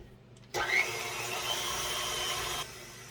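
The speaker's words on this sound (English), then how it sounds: "using the paddle attachment, I'm just going to mix this for about 2 minutes at about a medium-high speed" A stand mixer fitted with a paddle attachment churns pumpkin bundt cake batter at medium-high speed, a steady whirring motor hum that starts abruptly, runs evenly for about two seconds and cuts off.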